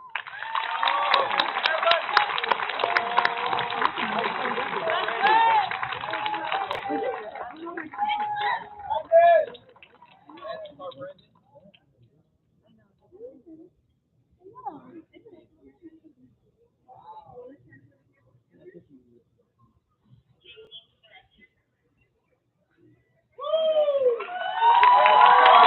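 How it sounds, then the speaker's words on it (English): Applause and cheering at the Alamitos 2024 high school commencement for a service award winner: a dense, loud crowd burst for about nine seconds that fades to scattered quiet sounds, with voices and a fresh crowd swell at the end. "Please join me in congratulating and applauding Brandon P. Nguyen."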